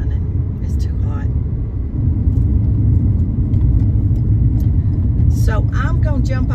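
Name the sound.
car engine running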